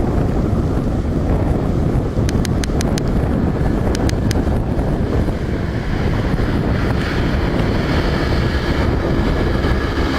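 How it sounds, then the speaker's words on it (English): A cool breeze buffets the microphone in a steady, loud roar of wind noise, with a few brief clicks partway through and no voices. "It's a bit of a cool breeze at the moment"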